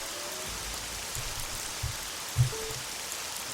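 Steady rain hiss in the video game Jagged Alliance 2, a constant even wash of falling drops with a few faint low thumps, no voices.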